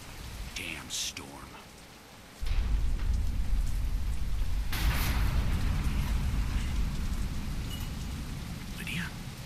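Heavy rainstorm in the game Deadlight, a steady broadband downpour that swells suddenly louder and stays dense, with faint rumbling low underneath.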